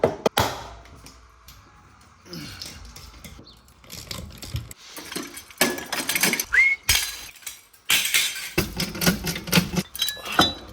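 Wrenches and loose metal parts on an Audi A4 B8 suspension give irregular close-up clinks, clanks and rattles, separated by short quiet gaps as bolts for the sway bar bushings and control arm are worked free.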